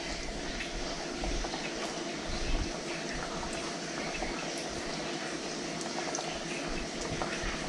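Chicken pieces cooking in a pan make a steady, dense sizzle and bubbling hiss, close and even in loudness from start to finish, with no voices over it.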